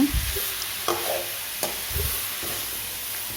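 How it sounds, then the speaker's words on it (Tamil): Chutney ingredients sautéing in hot oil in a pan, a loud, close sizzle with stirring scrapes and a few sharp spatula knocks over a few seconds. "இப்போது நம்ம எண்ணெய் சேர்த்ததுக்கப்புறம் நல்லா வதக்கி விடணும். நல்லா கிளறி விட்டுட்டே இருங்க."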